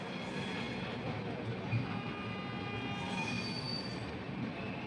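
The Coromandel Express, train 12841 from Howrah to Chennai, rolls out of Vijayawada Junction with a steady rumble while its wheels give off thin, sustained metallic squeals on the rails, heard from inside the coach.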